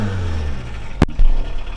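A 1979 VW Rabbit with the 1.5-litre diesel running loud and steady, a dense clattering engine drone with a sharp knock partway through and a slight swell afterward.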